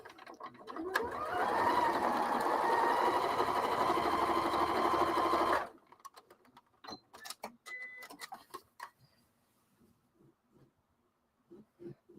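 A sewing machine stitches a seam in one sustained, loud whirring run of about five seconds, then stops abruptly, followed by scattered clicks and fabric handling.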